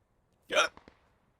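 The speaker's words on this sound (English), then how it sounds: "Sorry, I just had a drink of water, so I've got a little bit of hiccups now." A single sharp hiccup, close and loud, followed by two smaller catches of breath, after drinking water.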